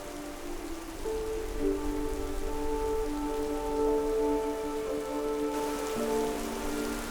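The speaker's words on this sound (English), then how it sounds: "It was raining all day long" Steady rain pattering on a surface outdoors in Norway, a continuous hiss with scattered drops, fairly close and even throughout, with no voices.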